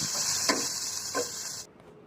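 Chopped tomato and green chilli frying in oil for Indian dal tadka, a steady bright sizzle with two soft stirring scrapes, cutting off near the end.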